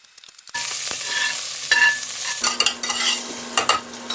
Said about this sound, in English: I've got my 2 pots full with lard right now, and it's rendering down